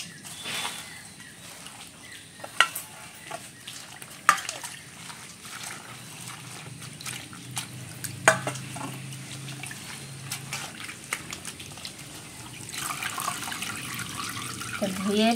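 Leaves are washed in water at a sink, with trickling, sloshing and occasional splashes and knocks that come and go over a soft, continuous background.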